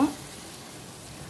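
Tomatoes sauté in a pan for thakkali thokku, giving a faint, steady, soft sizzle over a very short stretch, with a brief voice at the start.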